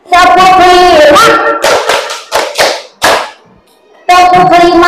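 At a school staff meeting, a group claps a five-beat ice-breaker pattern, the quick sharp claps sitting between stretches of loud sung or chanted voices.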